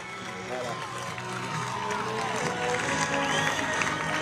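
A crowd applauds and cheers at the finish of a women's technical SUP race in Saint-Raphaël, a steady, fairly distant wash of clapping that continues beneath loud commentary.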